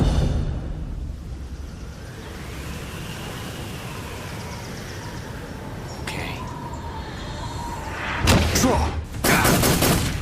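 Gunfire in the Metal Gear Solid 3: Snake Eater video game comes as a burst of loud, dense cracks near the end, standing out above a steady game background bed.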